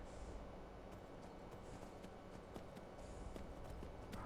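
Horse hooves clip-clopping in Skyrim, a steady quiet trotting rhythm over a dense game soundscape, with no talking.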